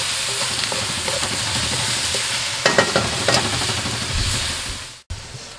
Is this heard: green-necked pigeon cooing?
no